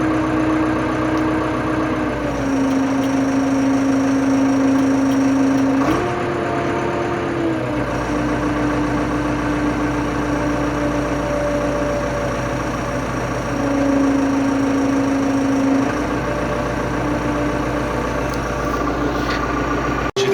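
A tractor engine idles loud and close, then picks up revs as the throttle is opened, its steady drone stepping up in pitch a few times and settling back, with no voices over it.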